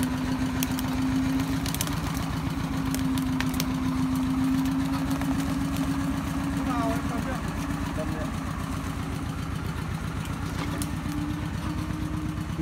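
A motorbike engine runs close by with a steady, throbbing low pulse that keeps an even rhythm throughout, and voices can be heard faintly over it.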